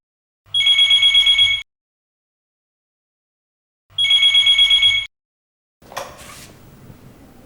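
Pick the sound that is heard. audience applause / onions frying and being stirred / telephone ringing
telephone ringing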